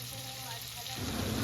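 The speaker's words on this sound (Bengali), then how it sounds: "ফার্স্ট আমি মাছগুলোকে ভেজে নিচ্ছি" Fish sizzling in a frying pan as a low, steady hiss that grows slightly louder and crackly toward the end of the short stretch, with no talking.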